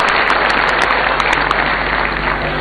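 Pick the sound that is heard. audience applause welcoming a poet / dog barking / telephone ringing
audience applause welcoming a poet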